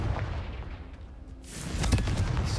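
Deep booming explosion in Hogwarts Legacy, a heavy rumble that swells midway through with a burst of crackling debris and keeps roaring without any talk over it.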